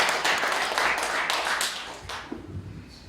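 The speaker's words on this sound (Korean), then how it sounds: "우리 먼저 주님께 영광의 박수 먼저 올려드립니다." A church congregation claps during a thanksgiving worship service, a dense burst of hand claps that holds for about two seconds before fading into quieter room sound.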